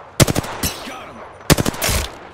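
Rapid automatic gunfire rings out in the Apex Legends video game: two sharp, loud bursts of several shots each, about a second apart, with a short rattle trailing after each volley.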